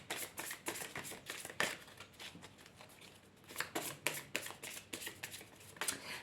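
Oracle cards for a card reading are shuffled close up, a quiet, rapid run of riffling flutters and soft slaps in uneven bursts, with no talking.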